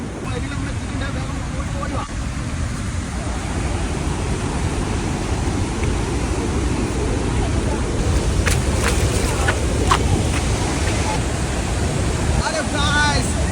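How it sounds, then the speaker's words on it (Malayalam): Athirappilly Falls roars steadily and loudly throughout, a large waterfall of rushing water. Voices speak over it near the end. "അതേപോലെ ആർത്തിരമ്പുന്ന വെള്ളച്ചാട്ടം താഴെ പോയാലേ കാണാനുള്ളൂ"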